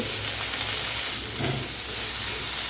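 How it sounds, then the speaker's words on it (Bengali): Tomato, green chili and a little coconut fry in a pan, a loud continuous sizzling hiss with faint stirring, close up and without voices. "তারপর আবার সব কিছু মিশিয়ে এক মিনিট মতো ভেজে নিতে হবে"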